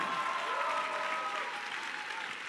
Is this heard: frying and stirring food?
no